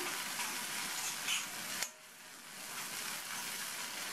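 Grated radish thokku sautés in hot oil on a stove over low heat, giving a steady, even sizzle throughout, broken by one brief clunk partway through.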